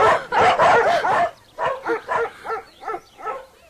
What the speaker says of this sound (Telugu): మా కుక్కలు కూడా మీరు నచ్చలేదు, అందుకని అరుస్తున్నాయి